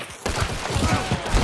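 A rapid burst of gunfire in the video game Hunt crackles over dense background noise, several sharp shots close together, loud and chaotic.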